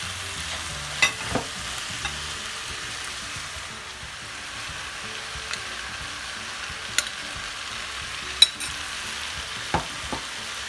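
A spatula stirs rice, vegetables and paneer in a frying pan, giving a soft, low sizzle broken by occasional sharp scrapes and clacks against the pan.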